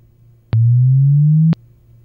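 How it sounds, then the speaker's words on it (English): A pure sine chirp generated in MATLAB sweeps smoothly upward from 110 Hz, a clean, loud electronic tone lasting about one second, with a click at its start and end and silence around it. "This signal is called chirp."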